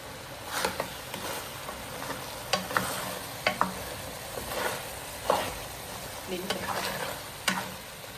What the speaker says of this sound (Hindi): तो यहाँ पे अभी तैयार हो रही है हमारी मटन कढ़ाई।